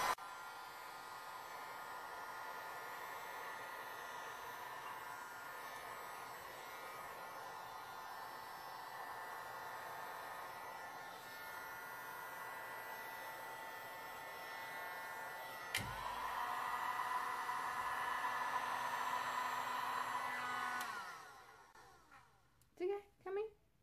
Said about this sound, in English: now I'm gonna use my lovely torch, not a torch, sorry, my friend, my heat gun